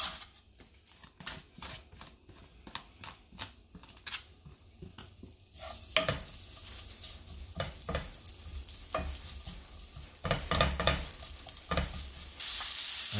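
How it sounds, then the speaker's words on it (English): Three strips of diced bacon cooking in a pot start with rapid scraping and clicking stirs, then swell into a louder, dense crackling sizzle that builds toward the end, heard up close with no talking. "we're going to get started by cooking up 3 strips of diced bacon."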